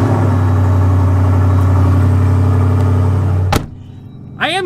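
A Jeep engine runs loud and steady with a deep, rumbling idle that cuts off abruptly near the end, followed by a brief squeaky mechanical sound.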